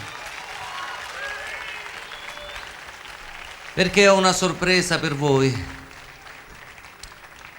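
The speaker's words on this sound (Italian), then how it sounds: "Che è un applauso questo, vai!" An audience applauds at a live outdoor concert in Sonnino, a steady wash of clapping for the musicians, then a voice speaks over the fading applause.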